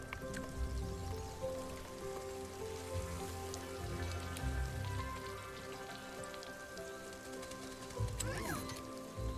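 Rain patters steadily through an Overwatch game cinematic, a continuous wash of drops mixed with a layered musical and ambient score, with a brief swooping effect near the end.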